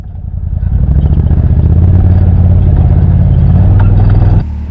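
A Can-Am Maverick X3 X DS Turbo RR sport side-by-side revs loudly and steadily up close, its turbo engine droning as it works through a gear change before the note drops off near the end.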